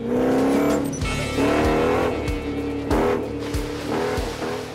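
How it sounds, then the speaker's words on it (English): A truck fitted with a Corvette exhaust roars as it accelerates, its throaty V8 note climbing and dropping through several quick gear shifts, loud and close. "the exhaust note that this thing makes is absolutely unbelievable"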